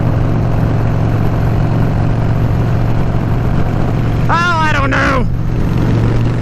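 A 2004 Harley-Davidson Dyna FXDI Super Glide motorcycle engine idles with a steady low rumble throughout while someone speaks briefly over it.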